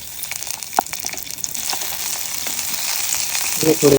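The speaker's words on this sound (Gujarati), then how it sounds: "હવે આપણું લસણ સરસ ગુલાબી રંગનું થઈ ગયું છે." Garlic fries in a pan until lightly golden for a broccoli and paneer salad, with a constant close sizzle, a few spatters and a louder crackle near the end.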